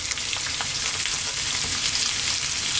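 Onions and ginger frying in a pan for a vegetable curry, a loud steady sizzle with faint crackles and occasional stirring, continuous and close.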